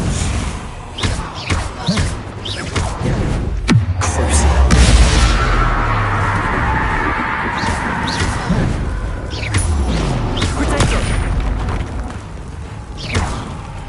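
Confringo fire spells burst repeatedly in Hogwarts Legacy combat, heavy booming thuds and slams layered with game effects, loud and continuous across the scene with short vocal shouts mixed in.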